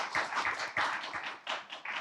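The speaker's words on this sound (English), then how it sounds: "finally, applause again." An audience at a manufacturing safety symposium clapping for two seconds, a steady patter of many hands at moderate distance.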